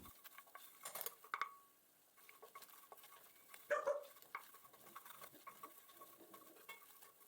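Flour is stirred into melted butter with sautéed onion and shallot in a pan to make a white roux, with quiet, intermittent utensil scrapes and a few clinks against the pan, close by and sparse.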